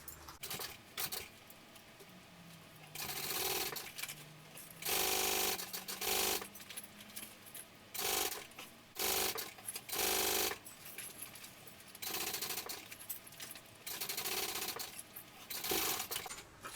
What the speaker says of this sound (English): I'm going to go ahead and I'm going to baste these two layers together.